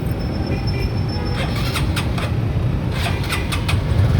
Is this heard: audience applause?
no